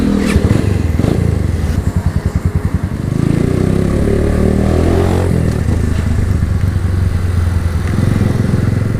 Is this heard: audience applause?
no